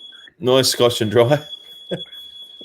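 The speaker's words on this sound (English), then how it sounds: "Someone's got the smoke alarm off. Is anyone cooking?" A household smoke alarm sounds a steady high-pitched tone that runs through the whole stretch, under and between people talking nearby.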